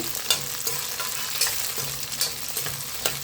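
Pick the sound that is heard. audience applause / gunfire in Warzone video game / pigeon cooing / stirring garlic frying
stirring garlic frying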